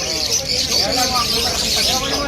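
Many small pet birds, including cockatiels and parakeets, chirp and twitter at once in a dense, continuous chorus at a Malabon pet market, with people talking underneath amid busy background noise.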